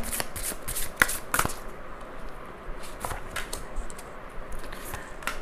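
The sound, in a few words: shuffling tarot cards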